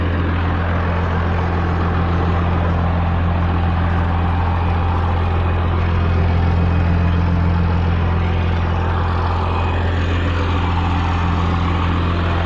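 A Cummins diesel truck engine runs with a loud, steady low drone and a constant rumble, alone and close throughout.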